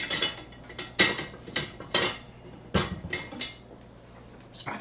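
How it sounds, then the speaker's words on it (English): Metal spatula scraping and clanking against a cooking pot while food is stirred, several sharp clinks and scrapes in an uneven rhythm, close and fairly clear with no talking. "we're gonna go ahead and just dump this in and stir it up."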